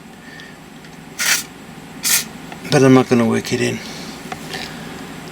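Cleaner is sprayed onto the potentiometers of an Akai VT-110 quarter-inch video tape recorder in two short, close hissing bursts, followed by someone talking.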